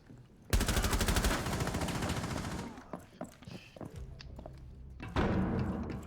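Rapid suppressed automatic gunfire in Rainbow Six Siege, a dense burst followed by scattered thuds and footsteps, then another short burst near the end.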